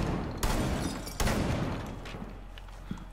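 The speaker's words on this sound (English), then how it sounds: "Right there, I'm shooting through the blue boxes." Gunfire in the Rainbow Six tactical shooter, fired through blue boxes: two loud, close bursts of rapid shots, the second longer, each trailing into a fading echo, with a faint pop near the end.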